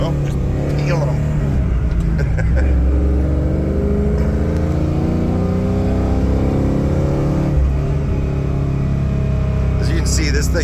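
Ford truck with a fuel-injected 460 V8 and Flowmaster exhaust accelerating hard, a loud, deep engine roar that climbs steadily in pitch and then shifts, heard from the cabin under constant road and wind noise.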